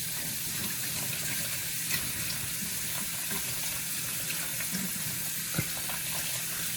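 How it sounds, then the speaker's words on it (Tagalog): Raw chicken for Hainanese chicken is rinsed under cold running tap water, a steady close hiss of water splashing into a sink that runs unbroken, with a few faint knocks and no talking. "pwede na po natin siyang hugasan ng cold water"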